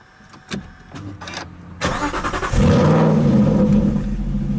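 An Aston Martin GT8 cranks briefly after a few clicks, then fires into a loud, close engine roar that settles into a deep, steady idle.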